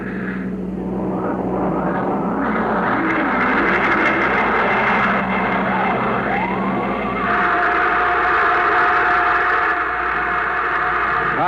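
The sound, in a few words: rocket blast-off engine roar, radio drama effect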